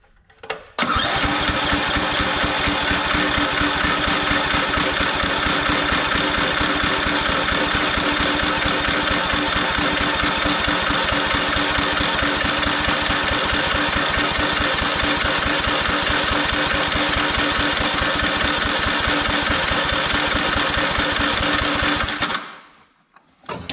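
A rare Craftsman lawn utility vehicle, its oil topped off and fresh gas added, cranks up and runs with a loud, steady rapid chugging for about twenty seconds before cutting out abruptly.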